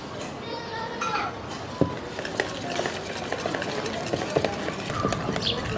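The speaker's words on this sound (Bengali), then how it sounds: "এখন একটা ভালো মতো ঘুটা দিয়ে নিই" A spoon stirs yeasted crumpet batter in a bowl, beating out air bubbles. The stirring gives soft, irregular wet scraping and tapping at a moderate level, with a few sharper knocks against the bowl.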